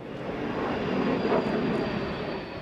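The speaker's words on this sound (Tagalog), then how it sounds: "apat din na F-16 jets ng US Air Force ang pinalipad mula rito sa Basa Air Base sa Florida Blanca, Pampanga" Philippine FA-50 and US Air Force F-16 fighter jets flying over Basa Air Base in Floridablanca, Pampanga, during Cope Thunder exercises, heard as a steady, loud, broad jet roar with no talk over it.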